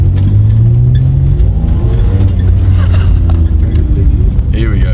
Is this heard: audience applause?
no